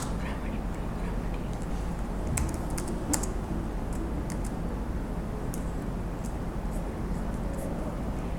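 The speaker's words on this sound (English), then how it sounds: "Now I am going to type an example program." Quick clicks of typing on a computer keyboard while an example Ruby program is entered, irregular light keystrokes over a steady background hiss, with no speech.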